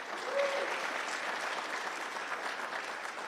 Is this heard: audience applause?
yes